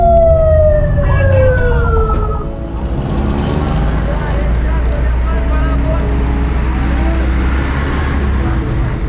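An Edhi ambulance siren wails loudly nearby on a city street, its rising and falling tone fading into steady traffic rumble as someone talks over it.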